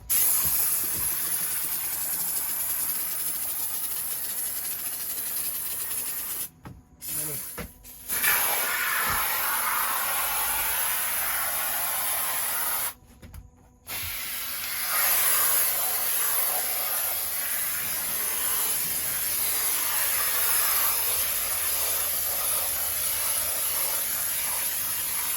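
Spray foam insulation hisses steadily out of a can, a loud continuous spray that cuts out twice for a second or so before resuming strongly.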